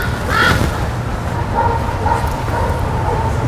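A dog at a training ranch gives a sharp bark near the start, followed by softer whimpering whines over steady outdoor background noise.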